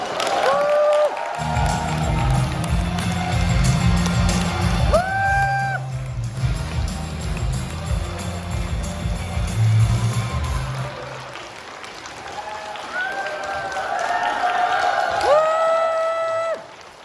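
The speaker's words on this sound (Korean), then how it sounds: "여기 계신 모든 분들께서 한 큰 박수, 정말 큰 박수로 맞이 부탁드리겠습니다" An audience at a corporate event applauds as a company president takes the stage, steady crowd clapping with some cheering carrying throughout, while music plays with bright tonal swells over the top.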